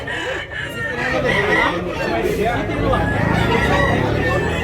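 Busy chicken market in Tabunok, Cebu City, with roosters crowing and clucking among the din, half-buried under steady crowd babble and people talking close by.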